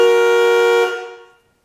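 The regular horn on a Ford truck sounds once as a single steady, loud honk lasting under a second, then rings out and fades into silence.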